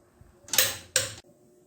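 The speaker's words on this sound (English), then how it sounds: "Now we just torque up the wheels." A wrench torquing the wheel lug nuts on a RAM 1500, two close, loud ratcheting bursts in quick succession, each a fraction of a second long.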